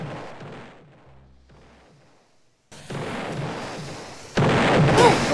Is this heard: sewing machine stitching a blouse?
no